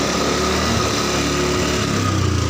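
A Honda Beat fuel-injected scooter engine runs close and loud with a steady buzzing drone while being revved, in a brief continuous burst with no pauses.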